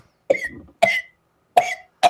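A man coughs four times, harsh and close, each cough short and separated by brief pauses.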